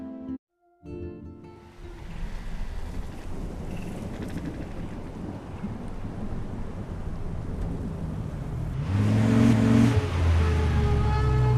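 A car ride in the video game Life is Strange: a steady engine and road rumble with a rain-like hiss, starting after a brief pause and growing fuller toward the end, where a low tonal hum joins in.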